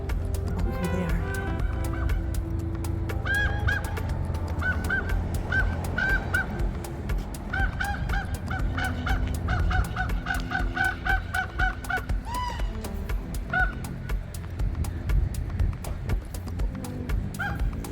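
A flock of large birds calls loudly outdoors, with honking and gobbling-like cries that overlap without pause. The calls repeat in quick clustered bursts over constant low ambient noise.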